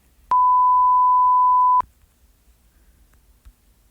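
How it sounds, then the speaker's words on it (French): A single steady electronic tone sounds clearly for about a second and a half, then cuts off, leaving near silence. "C'est la sonnerie de téléphone de mon frère."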